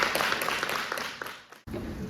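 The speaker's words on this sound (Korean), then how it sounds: "큰 박수로 맞이해 주시기 바랍니다" An audience at a civil engineering symposium claps to welcome a presenter, a fairly faint, even patter of many hands that softens, drops out briefly near the end, then resumes.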